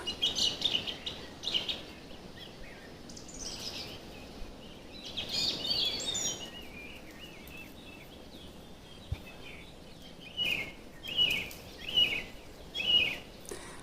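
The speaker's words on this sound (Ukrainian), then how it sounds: "Чуєте, як співають пташки," Several birds chirp and trill in high, scattered bursts over a quiet countryside garden plot near a forest, growing busier toward the end.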